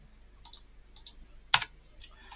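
Computer mouse clicking, a few light quiet clicks followed by one sharper louder click at a desk, with a faint tick near the end and no speech.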